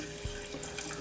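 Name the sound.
water being added to caramelized sugar for maple-flavoured golden syrup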